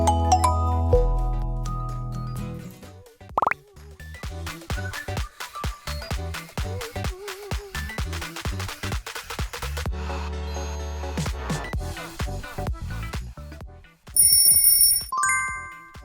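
A Microsoft smartphone ringtone: a loud, full electronic melody with bass and rhythmic percussive hits, followed by a bright chiming flourish near the end, close and alone.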